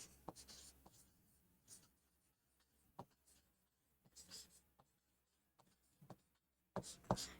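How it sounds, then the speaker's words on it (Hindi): Chalk or marker writing on a board during a law lecture, heard as faint, irregular scratchy strokes and taps with short pauses between them, quiet and alone. "यहाँ लिख देती हूँ"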